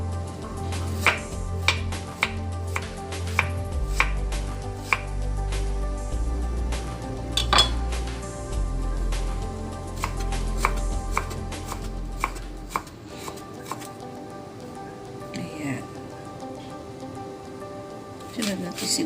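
Knife chopping ginger on a cutting board for chicken arroz caldo, a rapid run of crisp close taps with brief pauses, under a low steady kitchen hum that fades partway through.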